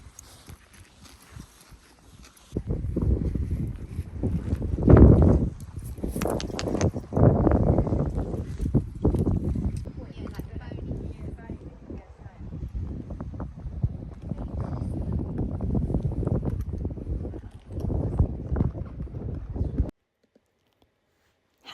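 Horses walking on the ride to the beach, hooves clip-clopping in a steady uneven rhythm, fairly close, with wind buffeting the microphone throughout before the sound cuts off near the end.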